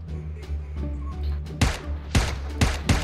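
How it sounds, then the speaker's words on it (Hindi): A UMP submachine gun fires in PUBG Mobile, a few loud sharp bursts of shots in the second half over a steady game background hum, with no talking. "सिर फाड़ दिया हमने यूएमपी से"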